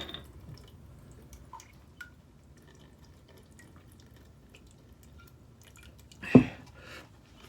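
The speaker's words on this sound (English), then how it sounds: "All the water dropping off," Water drips off a cut cabbage in a kitchen while cooking a Jiggs dinner: faint, sparse droplets patter over quiet room tone, with one sharper splash near the end.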